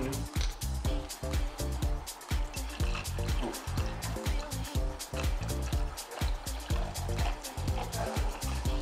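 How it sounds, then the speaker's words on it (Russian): Mineral water poured generously over plenty of ice, heard as a continuous fizzy splashing pour with bubbly trickling and rapid crackling clinks, steady and close for several seconds. "заливаем все это минералочкой"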